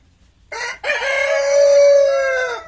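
A rooster crows once, loud and close, a long drawn-out call preceded by a brief clucking note, among ornamental chickens on a free-range farm.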